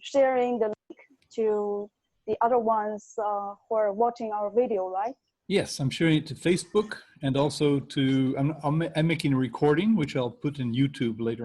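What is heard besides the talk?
None of the usual background noises is heard.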